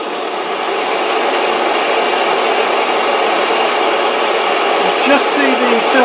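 A gas torch roars steadily as it heats metal parts to melt silver solder while scratch-building a Gauge 1 live steam model, with a continuous broadband hiss held at an even level throughout.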